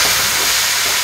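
Carrot chunks and diced onion hit a hot oiled pan with pork and soy sauce, giving a loud, steady broadband sizzle that hisses without pause for a second, with no voices.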